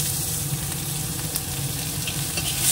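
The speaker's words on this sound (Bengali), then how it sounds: "এবার দিয়ে দেবো কাঁচা লঙ্কা কুচোনো আর পেঁয়াজ কুচোনোটা।" Chopped green chili and onion land in a pan with cumin and fry loudly. A close, constant sizzle with stirring runs throughout and swells slightly at the end.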